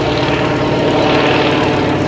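A propeller aircraft engine drones loudly and steadily during an aerobatic flying display at a Battle of Britain weekend air show, with no voices present.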